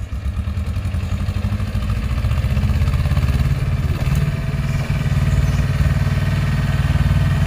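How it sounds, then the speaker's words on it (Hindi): A two-cylinder Powertrac 425 tractor engine labours under heavy load, a loud, steady low chugging throb with rhythmic clatter that rises slightly in strain and continues throughout, with no talk. "दो सिलेंडर ट्रैक्टर है भाई साहब तो खूब ताकत लगा रहो देख ले"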